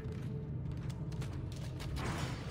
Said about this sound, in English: Oh, that's an elevator?